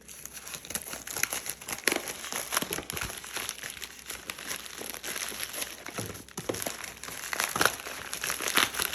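Paper crinkles and crumples steadily for several seconds, with brief sharper tearing rustles, close by and fairly quiet, no talking.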